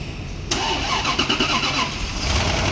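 A Rolls-Royce engine cranks and fires up after an overhaul, catching abruptly and settling into a steady, fairly loud idle with a slight uneven pulse, heard close with no talking.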